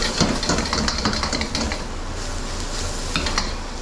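Onions and bacon fry in a pan for bacon and egg fried rice, sizzling steadily with crackles and scraping stirs throughout, close and busy with no voices.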